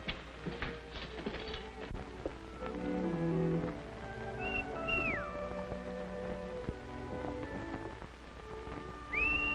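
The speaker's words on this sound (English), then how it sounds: "I could have sworn I recognized that whistle." A person whistles outdoors on a western ranch with horses nearby, giving short rising and falling whistle notes amid an old film's music and soft background noise, with a final brief whistle near the end.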